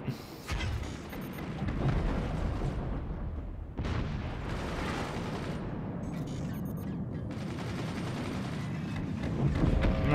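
Booming cannon blasts and explosions from the video game Forts ring out repeatedly amid a dense, noisy mix, with a few heavy impacts standing out.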